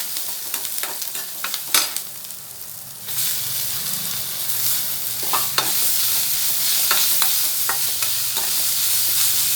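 Onions, dried red chilies and chopped tomatoes sauté in a pan for a yogurt-based mor kuzhambu, a steady sizzle and hiss broken by sharp scraping stirs, with the frying growing louder and denser after the first few seconds.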